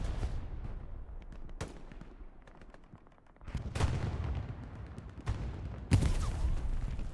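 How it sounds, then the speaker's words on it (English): Gunfire from the video game Hell Let Loose plays during a tournament match, with scattered shots and bursts echoing at a distance. The firing builds into denser volleys partway through, and no one speaks. "Yeah, they're definitely shooting here."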